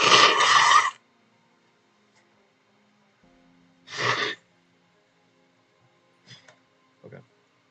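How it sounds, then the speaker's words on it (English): A person blows their nose right into a close microphone: one loud, harsh honking blast at the start, a second shorter blow a few seconds later, then two faint sniffs or snorts in an otherwise quiet room. "I want you guys to listen to me blow my nose right into it"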